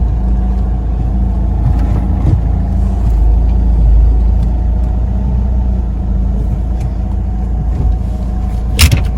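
A Mahindra XUV500 SUV drives along a road, its steady low engine and road rumble continuous and close throughout, with a brief sharper noise near the end and no talking.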